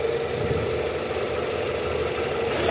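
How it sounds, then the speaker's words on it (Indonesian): The engine of a 2002 Toyota Camry idles after an oil service. It makes a steady, close, continuous hum with a faint rattle and no voices over it. "Suara mesinnya normal."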